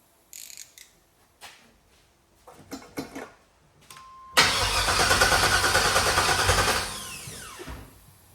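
An LS-swapped engine is cranked for its first start: a few scattered clicks and handling noises, then the motor catches with a loud, rough roar that runs a couple of seconds before winding down and fading out, with no talking.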